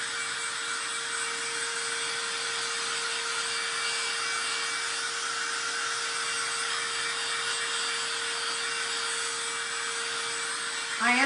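A handheld hair dryer blows hot air to dry hair, a steady, loud, unbroken whir with a constant hum that holds for the whole stretch, no voices over it.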